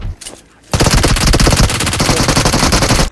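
AK rifle fire in PUBG Mobile on the Erangel map, a sustained rapid burst of loud automatic shots after a brief quieter lead-in.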